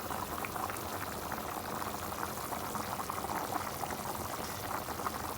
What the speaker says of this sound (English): It's bubbling away, as you can see.